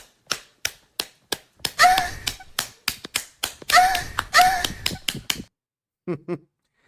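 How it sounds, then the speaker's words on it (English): A cheek-clapping sound effect made of sharp, rapid slaps in a rhythmic run, punctuated by a few louder bursts, then a brief trailing vocal sound near the end. "Let me get the cheek clapping sound for you."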